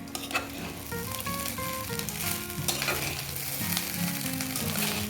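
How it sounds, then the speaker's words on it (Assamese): Cooked rice stirred into toasted grated coconut and other fried ingredients in a hot pan, giving a steady sizzle with scraping spoon strokes throughout, fairly close, with a faint tonal sound in the background and no talk. "আৰু এতিয়া ইয়াত দি দিম মই এই ভাতখিনি দি দিম। আৰু এইখিনি মই এতিয়া লৰাই ল'ম।"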